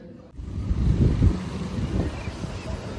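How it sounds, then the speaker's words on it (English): Strong wind buffets the microphone in low, rumbling gusts that rise and fall continuously, with a faint hiss of outdoor noise. "It got really windy all of a sudden"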